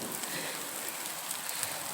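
Steady rain patters on garden plants, a soft continuous hiss of drops on leaves, close and even, with no voices.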